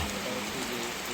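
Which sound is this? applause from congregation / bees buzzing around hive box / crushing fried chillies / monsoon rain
monsoon rain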